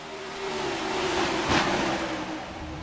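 Racing video game cars wrecking in the final laps of a stock-car race, a loud blur of engine roar and scraping impact noise, with one sharp crunch near the middle.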